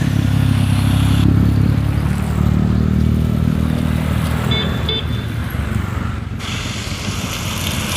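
A motorcycle rides along a road toward Bayah, its engine droning steadily with constant wind rush and passing traffic noise, loud and close throughout, with no talk.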